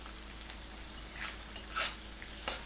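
Dried fish with turmeric sizzling in a pan, a soft, steady frying hiss with a few brief clinks and scrapes as it is stirred.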